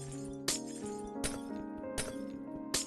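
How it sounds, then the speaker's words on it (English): Glass shatters repeatedly in a video game, four sharp breaking crashes at roughly even intervals over a steady tonal game background. "I hate breaking glass. The sound is awful."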